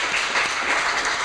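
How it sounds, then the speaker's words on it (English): An audience at a marine forum roundtable applauds, a dense, even wash of clapping that holds steady through a brief moment. "I'd like you all to give yourself a mutual clap for what you've contributed here"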